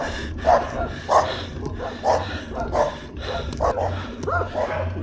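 Chained dogs bark near a fenced-in kennel along a rural Kentucky road, sounding loud and close in a rapid series of repeated barks and yips.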